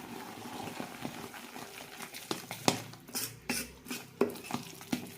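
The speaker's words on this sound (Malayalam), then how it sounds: "മാവ് നന്നായി പൊങ്ങി വന്നിട്ടുണ്ട്. നന്നായി മിക്സ് ചെയ്യുക." A spoon scrapes and clinks against a bowl as fermented palappam rice batter is stirred, with a steady run of sharp taps and wet swishes and no talking.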